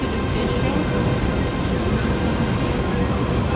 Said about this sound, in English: The train is coming to the station.